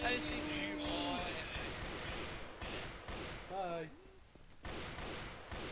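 Heavy gunfire from a big gun in Left 4 Dead, rapid punchy bursts going off under people talking, with brief pauses between volleys.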